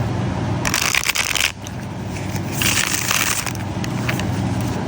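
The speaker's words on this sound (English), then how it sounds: "And now let's riffle." Two quick riffle shuffles of a tarot deck, each a crisp fluttering burst of flicking cards, separated by a short pause, close and distinct.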